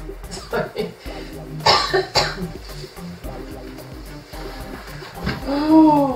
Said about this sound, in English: You can cough.